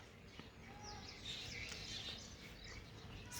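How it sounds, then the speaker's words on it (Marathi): Sparrows chirp among flowering trees in the morning, faint light tweets scattered over a soft ambient hush, distant and quiet throughout. "चिमण्यांचा किलबिलाट सुरू आहे"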